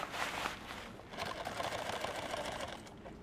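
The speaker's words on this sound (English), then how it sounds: "Now I'm going to sew across here" A sewing machine stitches across a kit bag with a continuous quiet whirring hum, briefly pausing then running on steadily, close by.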